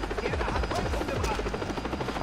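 A helicopter in the video game Far Cry 3 Classic Edition, its rotor a loud, rhythmic chopping thump over a continuous engine whine, steady and close, with no voices.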